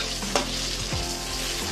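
Pieces of pointed gourd (potol) fry in hot oil with a close, bubbling sizzle and spitting crackles, plus a brief stir of the pan.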